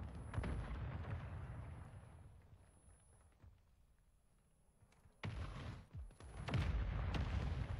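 Mortar strike explosions in the video game Apex Legends boom and rumble in loud, deep bursts, fading to a quieter lull before a fresh blast and more heavy impacts follow.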